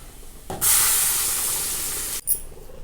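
Ground paste tipped into hot oil with cumin and chilli bursts into a loud, steady sizzle for over a second, then cuts off sharply with a brief clatter at the end.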